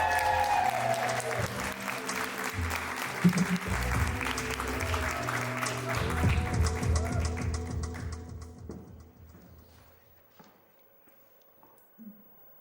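An audience at a Sheffield poetry slam heat applauds loudly and keeps clapping for several seconds, then the applause thins out and fades almost to silence.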